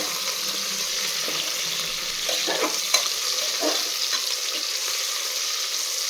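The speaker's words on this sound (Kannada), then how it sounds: "ಇದನ್ನು 1 ರಿಂದ 2 ನಿಮಿಷ ಇದರಲ್ಲಿ ಫ್ರೈ ಮಾಡಬೇಕು." Okra pieces frying in oil in a pan for sambar produce a steady, even sizzle with a few light stirring scrapes, and no one speaks.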